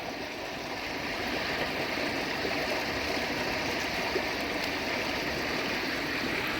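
Pond water churns and bubbles steadily from an air pump after a tap is turned, a dense continuous rushing and gurgling wash that stays close and even throughout, with no voices.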